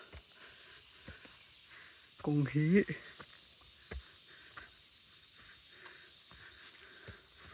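Crickets chirp steadily in the background as a faint, continuous outdoor drone, with a short burst of speech partway through.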